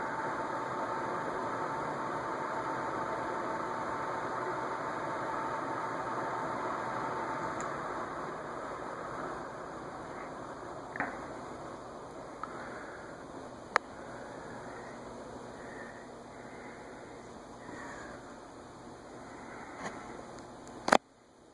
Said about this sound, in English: I'm going to turn it back to high so we can spin it down, because spin downs are important here.